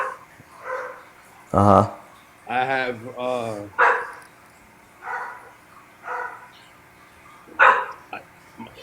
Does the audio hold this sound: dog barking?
yes